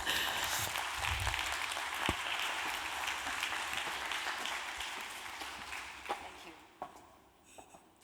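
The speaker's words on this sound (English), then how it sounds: "So please, big round of applause for Minas Diamond" Applause from an audience at a convention bureau afternoon event, a broad steady clapping that gradually fades out, with a few scattered claps and faint murmurs toward the end.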